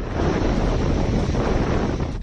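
Cyclone Amphan's wind roars across West Bengal as a loud, continuous blast with heavy buffeting against the microphone, and no one speaks.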